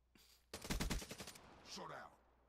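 Peacekeeper MK2 gunfire in Black Ops 3: a short burst of rapid, evenly spaced shots lasting about half a second, fairly loud and close, followed by softer game effects and a faint voice.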